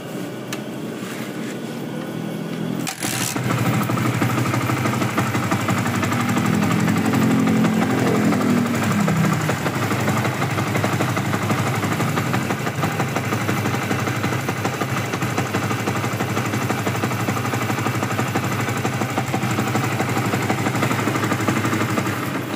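A Yamaha Vixion motorcycle engine, just repaired, starts after a few seconds of quiet and then runs at a steady, loud idle with a constant mechanical rattle close by.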